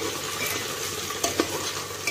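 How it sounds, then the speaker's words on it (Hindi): Potatoes fry in a pan with a dense, close sizzle, and a couple of quick spoon scrapes and taps stand out near the end. "थोड़ा सा हमें आलू को फ्राई कर लेना है।"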